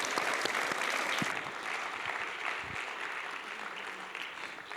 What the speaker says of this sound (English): let's give a big round of applause for Sarah.